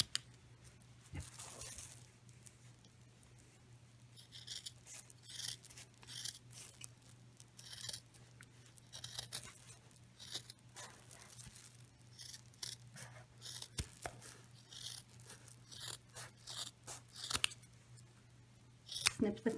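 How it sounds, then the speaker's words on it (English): Scissors making a series of quick, sharp snips through the fabric corners of a sewn pot holder, close and crisp, scattered over a quiet background hum, with a person talking intermittently. "I'm going to start with this corner, and I'm just going to snip it."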